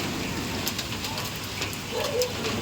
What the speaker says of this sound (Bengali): তোমরা দেখো, প্রচণ্ড জোরে বৃষ্টি হচ্ছে